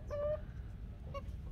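A backyard Brahma chicken gives two short, nasal, honking squawks, a longer one first and a brief one about a second later, close by over low rumbling background noise.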